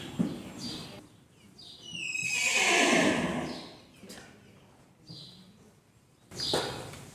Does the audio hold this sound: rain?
no